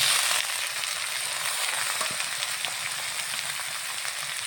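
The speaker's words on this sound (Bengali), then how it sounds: "এখন আমি এই মাছগুলা ঢেলে দিব।" Fish pouring into a pan of lightly fried onions and chili, setting off a loud, steady hiss of frying that fills the whole stretch with no voices.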